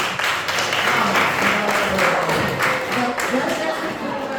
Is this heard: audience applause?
yes